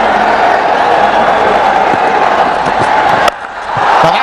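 Large cricket stadium crowd at a one-day international match in India, a steady loud roar of cheering that drops briefly near the end and then swells back up.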